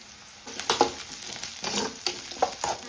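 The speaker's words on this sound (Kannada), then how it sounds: "ಸ್ವಲ್ಪ ಶುಂಠಿ ಹಾಕ್ತಾ ಇದ್ದೀನಿ, ಬೆಳ್ಳುಳ್ಳಿ." Ginger and garlic dropped into hot oil for a spicy chicken curry, a close sizzle that swells suddenly, with stirring clicks and bursts of crackle, no speech.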